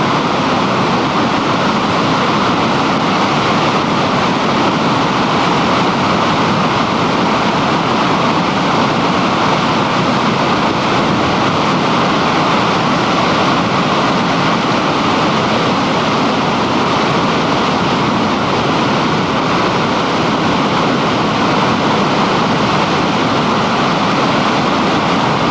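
The flooded North Fork Matilla Creek in the Ventura River area during the 1998 flood rushes in big flow, a loud, unbroken roar of turbulent water with no voices.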